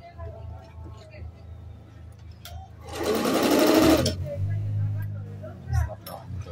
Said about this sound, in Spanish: Entonces aquí vamos a hacer costura recta.